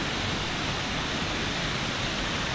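Steady, full-band rush of water pouring at the Gibson's Cave waterfall, a continuous roar close by with no pauses and no voices.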